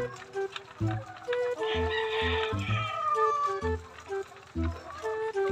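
Chickens cluck in a large poultry farm, a busy overlapping chorus of short calls and squawks close by, with a faint rooster-like crow and someone murmuring in the background.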